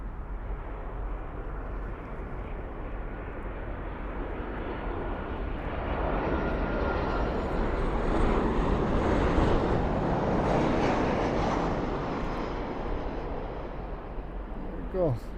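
An Alaska Airlines airliner at Toronto Pearson gives a steady broadband engine roar that swells in the middle and fades toward the end, with wind noise and a voice talking over it.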